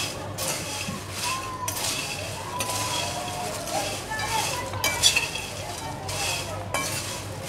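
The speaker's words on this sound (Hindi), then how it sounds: "अच्छे से मिक्स कर लेंगे इसे।" Cornflakes chivda being mixed in a pan, with steady scraping and stirring, light clinks of a spoon against the metal and a faint sizzle, close and continuous with no talk.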